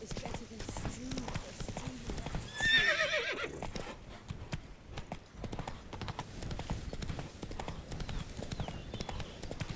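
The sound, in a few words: horse Roach galloping in video game Witcher 3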